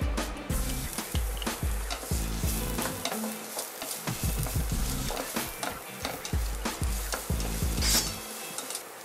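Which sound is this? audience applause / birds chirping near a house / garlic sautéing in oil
garlic sautéing in oil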